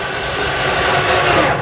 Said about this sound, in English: I pre-drill holes for the screws and simply drive the screws tight.